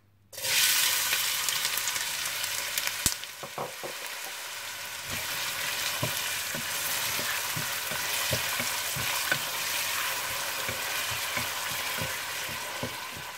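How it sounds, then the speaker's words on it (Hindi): Steady sizzling of onions frying in hot oil, close and continuous, with occasional clicks and taps of a utensil stirring the pan. "इसमें प्याज डालकर हल्के गोल्डन ब्राउन कर लीजिए।"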